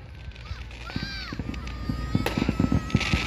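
A dense barrage of Fourth of July grand finale firework explosions, many sharp bangs in quick succession with whistling streaks overhead, while voices murmur in the crowd.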